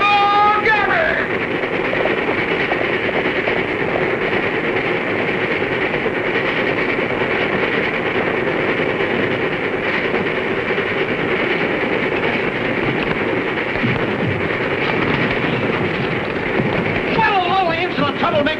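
A train runs steadily on its rails throughout, with continuous rolling rumble and rail noise, while people talk over it in the foreground.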